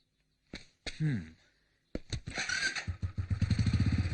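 A motorcycle starts up with a couple of brief coughs, then the engine catches and settles into a close, steady idle with a rhythmic low putter that grows steadily stronger.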